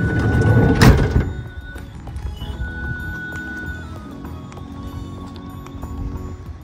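A 2012 Dodge Grand Caravan BraunAbility wheelchair-accessible minivan's sliding side door rolls and shuts with one loud thud near the start, followed by quieter rattles and a low background hum.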